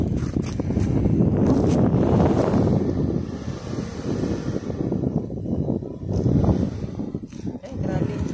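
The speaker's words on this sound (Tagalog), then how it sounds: "Sarap ng hangin." Wind gusts outdoors, buffeting the microphone with low rumbling swells that rise and fade while people talk throughout.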